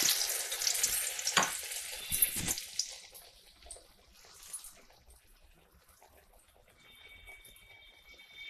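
Urad dal vadas (garelu) frying in hot oil, a festival prasadam, with a bright crackling sizzle strongest in the first few seconds that fades to a softer, steady bubbling hiss.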